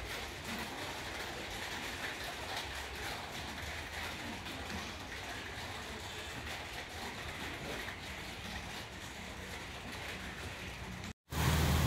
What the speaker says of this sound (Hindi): बहुत दबा के बारिश आ रही।